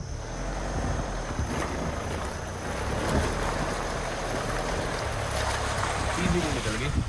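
A Mahindra Thar in 4x2 pushes through water, a broad rushing splash and churn with wind buffeting the microphone, steady and close throughout.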